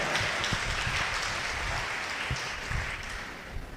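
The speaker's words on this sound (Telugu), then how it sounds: "గట్టిగా చప్పట్లు కొట్టండి." A church congregation claps loudly together, a dense continuous patter of many hands that stays strong throughout with no talk over it.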